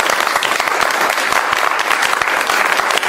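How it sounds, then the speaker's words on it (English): Loud, dense applause from an audience at a women's history month event, continuous clapping close up that stays strong and even from start to finish. "Let's give her applause."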